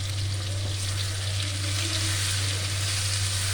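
Cumin seeds and turmeric sizzling in hot oil in a pan, a steady, close crackling hiss with a constant low hum beneath and no talking.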